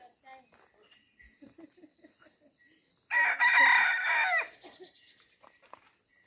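A rooster crows once, loud and close, in a single drawn-out call that stands out over quiet background murmurs and faint clucking, in a hilly Konkan village.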